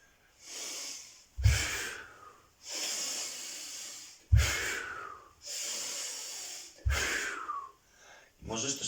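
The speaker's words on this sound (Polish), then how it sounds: "Bierzesz największy wdech, jaki możesz tylko wziąć" A person does a deep breathing exercise, three forceful, close sharp inhales through the nose, each followed by a long steady hissing exhale, repeating in an even rhythm.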